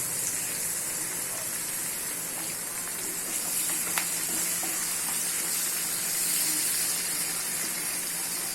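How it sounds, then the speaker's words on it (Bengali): Onions with turmeric frying in a pan for methi mutton, heard as an even, close crackling hiss that holds steady from start to finish without speech. "একটু পেঁয়াজটাকে ভাজা ভাজা করে নিচ্ছি।"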